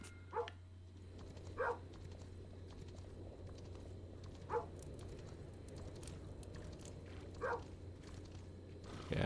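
Dog barking in the side-scrolling strategy game Kingdom Two Crowns, Norse Lands setting: five short, distinct single barks spaced a few seconds apart over a low ambient hum, moderately near, with no voices.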